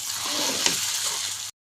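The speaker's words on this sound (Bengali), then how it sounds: "নুডলসটা আলু ডিম মিশিয়ে ভেজে নিব" Noodles frying in a pan with potato and egg in a home kitchen give a steady, loud, close sizzle that cuts off abruptly near the end.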